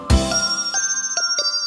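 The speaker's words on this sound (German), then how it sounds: "4 große Glocken. Ding, dong, ding." Bells from a German children's rhyme ring out loud and close: one strong struck tone with a long shimmering ring, followed by three lighter chiming strikes spaced across under two seconds, with no voices.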